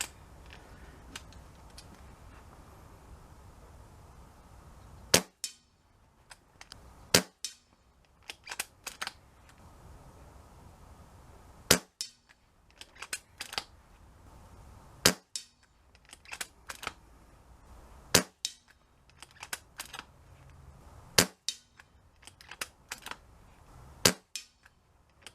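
Rifle shots during a field test at Woodend Farm after a hammer spring adjustment, with a string of sharp, loud cracks spaced a few seconds apart, each followed by quieter clicks and handling noises, and no speech.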